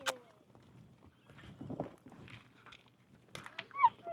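Miniature donkey moving around close by, with soft hoof clops and shuffling, a short whinny-like call near the end, and faint background sounds between.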